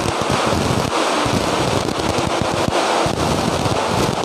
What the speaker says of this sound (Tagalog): ang lakas-lakas na ulan mga kapatid